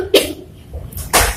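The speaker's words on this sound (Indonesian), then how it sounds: "Ih, kamu batuk ya?" A person coughs twice, two short, sharp bursts about a second apart, close and fairly loud with quiet between them.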